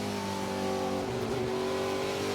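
A Trans Am Series race car engine revs hard at Sonoma during the Western Championship, a loud sustained mechanical roar with shifting pitch throughout.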